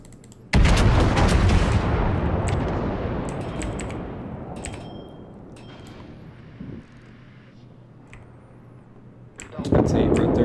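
The battleship Fuso fires a broadside in World of Warships: a sudden heavy salvo booms at the start and rumbles away over several seconds, then a second loud salvo erupts near the end.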